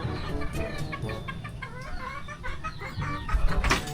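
Chickens clucking near a fishpond in Cainta, Rizal, a dense chorus of many hens close by with steady overlapping clucks and noisy background.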